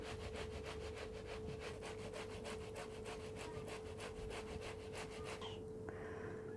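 Boiled beetroot rubbed against a grater in steady, rapid strokes, a continuous scraping rasp that stops abruptly near the end.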